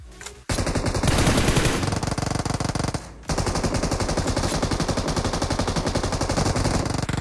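Sustained automatic gunfire in a battle-royale style shooter video game, loud and continuous with rapid bursts, a brief pause near the three-second mark, then steady firing again to the end; no talking.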